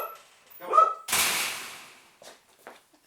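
A dog gives a few short barks and yips indoors, followed by a louder burst of noise and a couple of faint whimpering sounds, all fairly close.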